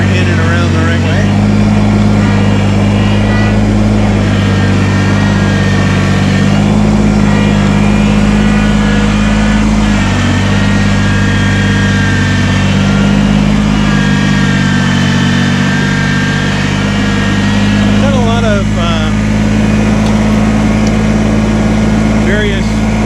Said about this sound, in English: So we get the tractor in and around the right way.